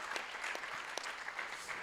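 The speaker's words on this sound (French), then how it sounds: "Donc je vous propose également de l'applaudir" An audience at a round-table discussion gives a brief burst of continuous, moderately loud clapping, heard alone without talk.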